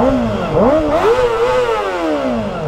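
A Kawasaki ZX4RR motorcycle engine revs hard close by, rising sharply in quick blips toward 16,000 RPM and then sweeping back down in a long, smooth fall, with no talking.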